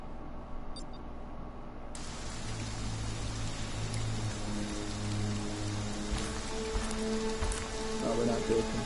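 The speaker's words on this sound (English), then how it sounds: "It's always raining in this damn game." Steady rain pours in a PS4 video game, a dense hiss of drops on surfaces that swells fuller partway through and continues unbroken, with faint game tones underneath.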